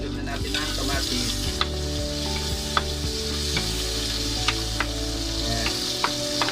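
Tomatoes go into a pan of sizzling pinakbet, a Filipino vegetable dish with pork, producing steady loud frying hiss with a few sharp clicks of a utensil, and no talking.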